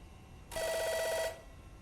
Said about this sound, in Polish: A, to domofon jest.